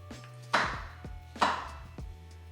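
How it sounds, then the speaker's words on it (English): Knife cutting mushrooms into pieces on a board, with two distinct crisp chops and softer slicing sounds between them, close and clear. "So I'm just gonna cut it in half, and then I'll just go like 1, 2, like that, so I get 3 pieces."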